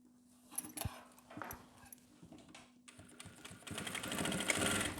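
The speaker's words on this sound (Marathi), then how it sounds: "व्यवस्थित साईड बाय साईड स्टिच मारायची." A domestic sewing machine stitches the lining of a boys' jacket, its motor whirring in uneven bursts that build to a faster, louder run toward the end.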